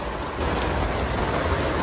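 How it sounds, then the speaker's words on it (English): Dense, steady rain hisses and patters loudly and evenly, with no voices. "Look at this rain, guys."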